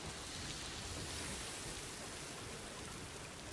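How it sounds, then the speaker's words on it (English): Steady rain hisses evenly and without a break in the video game Death Stranding 2, a soft, constant wash of falling water with no voices over it. "Now is it raining? It's never a good sign."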